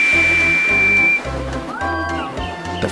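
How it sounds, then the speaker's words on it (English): Steam engine blowing off steam in a children's railway story: a steady high whistle-like hiss for about a second that fades into a lower rushing hiss, with a soft tonal score playing underneath. "he blew steam at them"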